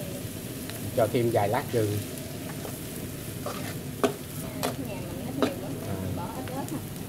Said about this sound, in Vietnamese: Xào cho thơm lừng lên là tắt lửa thì sẽ để nguội.